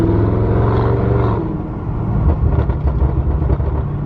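An Audi RS7 in sport mode with open exhaust valves rumbles loudly up close, its steady drone breaking into a rapid string of crackling pops and burbles as the revs fall.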